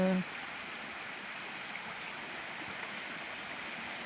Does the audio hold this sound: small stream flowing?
yes